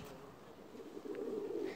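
Low, soft cooing of seven pigeons, a steady murmur of several birds close by with no voices.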